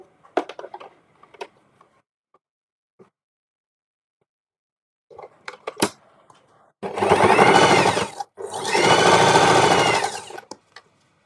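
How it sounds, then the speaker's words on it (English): A sewing machine runs in two steady bursts of stitching, each about a second and a half long with a short pause between, loud and close after scattered quiet handling clicks. "When I sew and I start"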